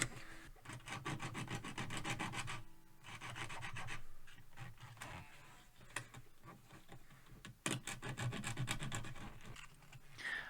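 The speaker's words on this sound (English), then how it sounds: "Let's see what we can't do with some sandpaper now" Sandpaper rubs steadily over the wood of a Kalamazoo guitar, making a close, continuous rasping in long back-and-forth strokes with brief pauses, and no one speaks.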